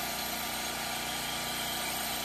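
A dual rotor alternator with staggered magnets spins steadily at 1800 RPM, giving off a continuous, even mechanical hum and vibration with no pauses or voices.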